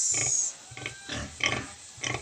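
A native pig sow grunting near at hand in several short bursts, with thin high squeals from her newborn piglets mixed in.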